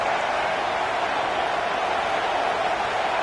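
A stadium crowd at a Tennessee versus LSU college football game roars for the defense on a big third down, forming a steady, unbroken wall of loud cheering noise with no distinct voices.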